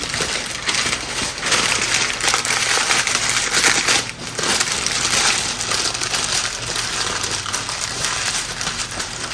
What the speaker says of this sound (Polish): Zawinę teraz szczelnie ten papier pergaminowy.